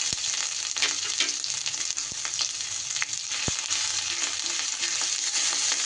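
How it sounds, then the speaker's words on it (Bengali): Grated ginger frying with whole cumin in hot rice bran oil, a dense, loud, continuous sizzle with a few faint clicks of stirring. "জিরেটা থেকে ভাজা গন্ধ বেরোলে দিয়ে দিচ্ছি গ্রেট করা আদা।"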